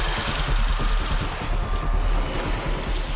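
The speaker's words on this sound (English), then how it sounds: "Once the tower is aligned with the foundation, the crew tightens the bolts" A crew tightening the 140 bolts at the base of a wind turbine tower, a steady rapid hammering rattle of a power tool, close and continuous over a low rumble.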